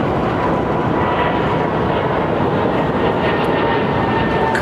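Airliner jet engines at takeoff power at London Heathrow in warm weather, a loud, sustained broadband roar holding steady throughout with no talk.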